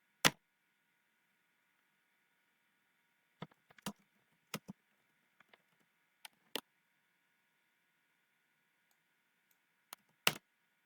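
Sparse, irregular clicks of a computer keyboard being typed on, a few isolated keystrokes and short bursts spread across a quiet background with a faint electronic hum, no talking.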